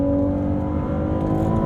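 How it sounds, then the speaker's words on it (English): Twin-turbo V6 of a Ferrari 296 GTB hybrid, heard from inside the car as a steady, loud, dense engine drone with a strong low hum, holding even throughout with no voices over it. "now that this twin-turbo V6 is making a statement, boy, what a statement it is!"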